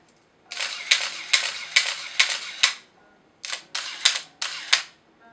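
A Nikon FA camera with an MD-15 motor drive fires in continuous mode: five rapid shutter clicks, a short pause, then three more, crisp and close in a quiet room.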